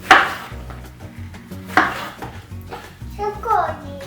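Fruit is cut on a board in a family kitchen, with two sharp knife strikes spaced a couple of seconds apart while a child and an adult talk nearby.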